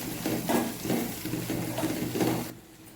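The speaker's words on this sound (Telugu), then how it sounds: "అల్లం వెల్లుల్లి పేస్ట్ పచ్చివాసన పోయేంత ఫ్రై చేసుకోవాలి ఒక నిమిషం పాటు" Ginger garlic paste fries with onions and turmeric in hot oil, a steady sizzle broken by rhythmic stirring scrapes about every half second, then quieting abruptly near the end.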